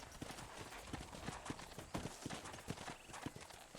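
Hooves clip-clop in a steady, quick rhythm over a constant background hiss, sounding like a horse running at a moderate distance, in the video game Red Dead Redemption.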